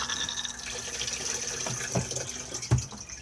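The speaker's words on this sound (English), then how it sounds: "And then push to flush just on the top just here." A Thetford cassette toilet in an Auto-Sleeper Warwick XL motorhome flushing, a soft running rush of water with a couple of sharper splashes and gurgles toward the end, fairly close.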